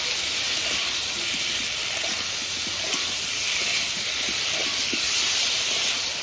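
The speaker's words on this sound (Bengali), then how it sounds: "ভালো করে আমি এখন কষিয়ে নেবো মশলাটা দিয়ে।" Spice paste sizzles in a pan as it is sautéed for a bata fish curry, a loud, steady close hiss with faint crackles and scraping throughout.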